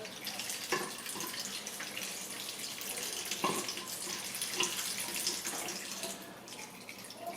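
Water draining from a manual laundry washer into a bucket, a steady splashing trickle that runs unbroken and fairly close throughout, with a few louder gurgles along the way.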